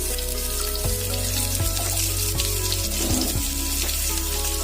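Onions and black cumin seeds frying in hot oil give a loud, continuous hiss, broken by a few soft knocks and shifts as they settle in the pan. No voices are heard.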